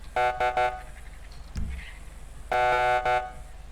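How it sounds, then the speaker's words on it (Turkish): A police horn fitted to a modded 2019 Audi RS4 Avant in GTA 5 blares in short electronic bursts, two quick blasts, a pause with a small clunk, then two more loud honks. "Korna polis yapalım."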